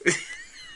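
A single sharp sneeze bursts out close and loud, then trails off into a faint airy ring.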